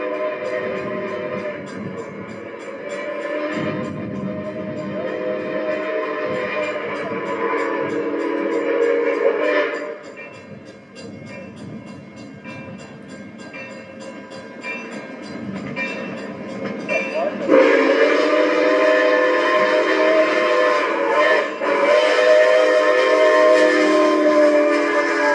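Milwaukee Road 261 steam locomotive pulling a train rumbles past at close range in Hector for a long stretch, its horn sounding repeatedly and growing louder toward the end.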